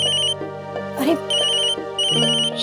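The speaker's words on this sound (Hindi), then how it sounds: "शौर्य का फोन है।" A phone ringtone plays loudly in repeating melodic bursts, with a brief rustle or voice in the middle.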